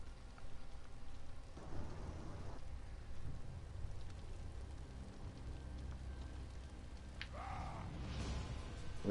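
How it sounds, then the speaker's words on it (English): Rain falling in the Elder Scrolls Online game world, a soft continuous patter under low rumbling ambience, with a few brief louder bursts and effects near the end. "It's starting to rain in the game."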